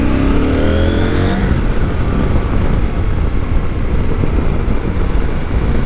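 A CF Moto 800 MT sport+ motorcycle with a KTM engine accelerates hard, its engine note climbing in pitch at first and then settling into a loud, close, steady roar with no talking.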